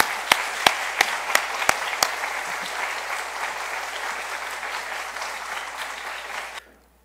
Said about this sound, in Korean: 다 같이 박수로 환영하십니다